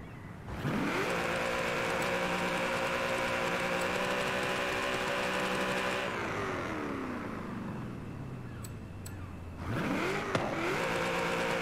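A tuned car engine in the racing game Forza Horizon 5 revs up and holds high, then drops away and roars back, loud and close, with gear changes audible.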